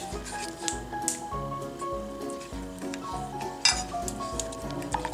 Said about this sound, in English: Stir it really good.